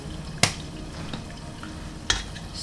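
Turmeric powder being stirred into a cooking noodle dish, with two sharp scraping clinks of a utensil against the pot over a steady frying sizzle.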